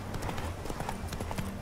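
Rapid hoofbeats of a horse trotting in The Witcher 3 video game, a quick, even clip-clop beat heard close over a soft background hum.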